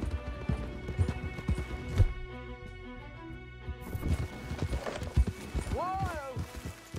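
Horses in Red Dead Redemption 2 clatter in hoofbeats and whinny, with a clear rising neigh near the end, while people talk over the scene.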